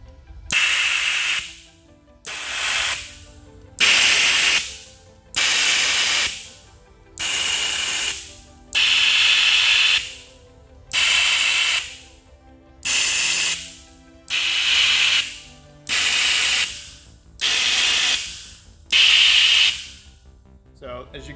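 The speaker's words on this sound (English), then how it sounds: "we're going to go ahead and do a demonstration of some of the reaction control valves as well as the main macro thruster" Reaction control valves and a main thruster on a demonstration unit fire in a regular series of about eleven loud, sharp gas hisses, each lasting roughly a second with short pauses between, close by and without talk.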